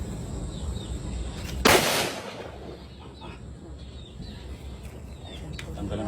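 A single loud gunshot fired at a target at an outdoor shooting range, a sharp crack followed by a short decaying echo, with faint birds and ambient noise around it and brief talk nearby.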